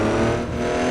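Ford F450 truck engine under load while towing, a loud, steady low drone with a slight dip partway through, no voices.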